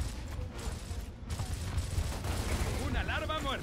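Gunfire from Gears of War Ultimate Edition, a steady clatter of rapid shots with distant booms, layered under someone speaking Spanish throughout.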